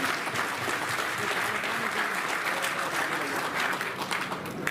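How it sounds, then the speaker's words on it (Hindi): Loud, continuous applause from a crowd at a protest rally of Delhi contract electricity workers fills the whole stretch, dense clapping with no pauses. "एक बार जोरदार ताली से"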